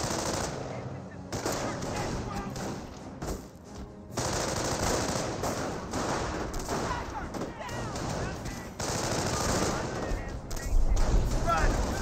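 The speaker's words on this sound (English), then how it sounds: "I hear another howitzer barrage" A howitzer artillery barrage in the strategy game Company of Heroes rumbles beneath dense, continuous rapid gunfire and explosions, loud and sustained across the whole stretch, with a voice talking at times.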